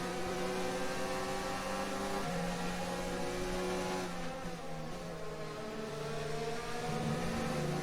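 A Formula 1 car in the game F1 2019 at the Austrian GP races with a loud, continuous high-pitched engine whine, revs climbing and shifting through gears, close and with no talking.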